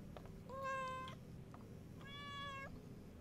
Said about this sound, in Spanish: ¡El gatito!